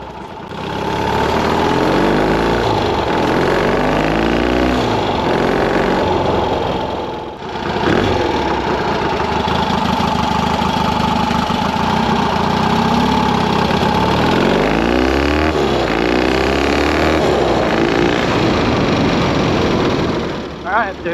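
Triumph Desert Sled motorcycle riding in second gear, its engine a steady loud mid-pitched drone that swells and eases with the throttle, with a brief dip partway through and wind rush throughout.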